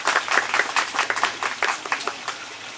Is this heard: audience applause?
yes